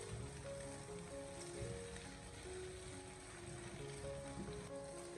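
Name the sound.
egg pancake frying in pan over medium-low heat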